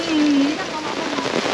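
Heavy, continuous rain pours at a campsite near Metro Manila, a steady broadband hiss of drops that stays loud and unbroken throughout, with a brief low tonal hum near the start.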